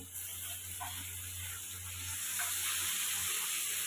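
Chopped tomato goes into onion already hot in a pan for chicken fry and curry, and a steady soft sizzle and hiss rise a little after the tomato drops in. The frying is heard close, with no talking over it.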